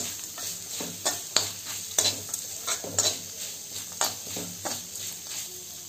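Grated coconut sautés briefly in a pan for a milk pongal, with a soft, steady sizzle under rhythmic spatula scrapes and taps recurring roughly every second, close and moderately quiet.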